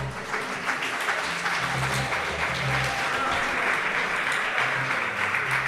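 An audience at a poetry slam in Iruñea applauds steadily after a round of scores, a dense, even wash of clapping that holds for several seconds with faint voices mixed in.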